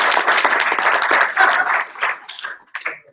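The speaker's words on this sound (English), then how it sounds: "Round of applause, Brandon." A small tech-meetup audience gives a round of applause, with dense, close clapping that fades out over about three seconds and a few late claps trailing at the end.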